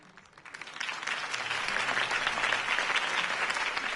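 Crowd applause after a campaign speech in Batman: The Telltale Series, starting softly and swelling within a second into steady, fairly distant clapping from a large audience.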